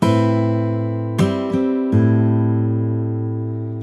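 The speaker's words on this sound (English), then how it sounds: "we're playing another open bass note" An open bass note rings out on acoustic guitar, followed by a few lighter plucks that sustain together, close and clean, with no voices.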